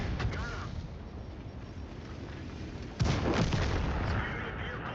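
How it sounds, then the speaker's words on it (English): Artillery fire in a tank video game, a loud, booming blast that hits suddenly partway through over a dense, rumbling battlefield din that continues before and after it. "Oops, artillery."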